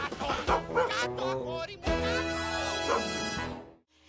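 A cartoon dog in a Bob the Builder episode gives a few yips and barks, close and fairly loud, with whimpering tones and cartoon music or effects underneath.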